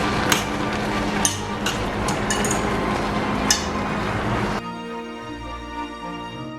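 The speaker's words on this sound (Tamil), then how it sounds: "1ஆம் பால் விட்டா பிறகு விட்டு ஒரு முள்ளு கரண்டியால் இதை கிளறி விடுங்க." A fork scrapes and clinks against a pot while beaten egg is stirred into a cabbage milk curry, with a few sharp metallic taps over bubbling cooking noise before the sound drops to a quieter hum.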